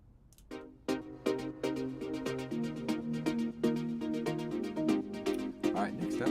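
Layered synth plucks from a melodic progressive house track, a bright run of short pitched notes in a quick rhythmic pattern, clear and upfront with no talking.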